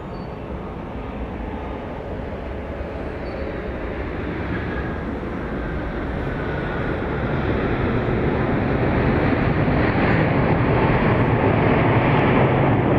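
A Boeing 737 Max 8 arriving at Dallas Love Field from Phoenix, its broad engine roar steady and rising gradually as the jet draws nearer, with no voices present.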